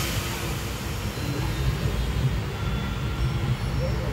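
A Mysore–Pandharpur passenger train rolling along with a steady rumbling clatter of wheels on rails, heard from inside or close by at moderate loudness, with no other sounds standing out.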